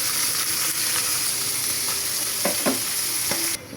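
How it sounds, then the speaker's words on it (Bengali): Tangra fish frying lightly in hot oil, a loud, dense, constant sizzle close by, broken by a few short clinks of a utensil before it cuts off abruptly near the end. "আর এখানে ট্যাংরা মাছগুলো হালকা ভেজে নিচ্ছি"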